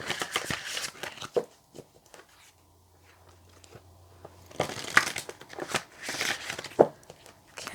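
Oracle cards are shuffled and drawn by hand in a quiet room, giving soft papery riffles and flicks in short bursts, with crisp snaps near the start and end and a near-silent stretch in the middle.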